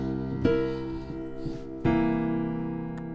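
Two sustained piano chords, tones of a dominant seventh chord, the flat 7th and the 3rd, one struck and left ringing, then a second struck and held as it slowly decays, with no talking.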